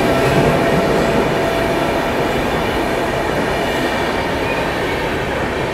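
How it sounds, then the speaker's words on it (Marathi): Pune–Santragachi Humsafar Express thunders past the platform at Jalgaon railway station without stopping, a loud, close, continuous rumble of rolling wagons and rattling wheels that holds steady throughout. "प्लॅटफॉर्म नंबर 4 वरून पुणे संत्रागाची हमसफर एक्सप्रेस आता इथं स्किप करते ट्रेन जळगाव स्टेशनला"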